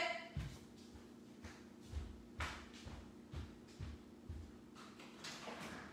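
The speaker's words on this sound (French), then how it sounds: "j'entends des frappes à ma porte" Knocks land on a door at an uneven pace, several dull thuds spread over a few seconds and fairly faint against a room hum, with no talk during them.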